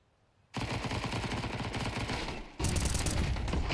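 Rapid gunfire from a Counter-Strike match in the CCT Season 2 Europe online playoffs between Aurora and mouz NXT bursts in after a brief quiet, then continues as loud, dense, sustained shooting until the end.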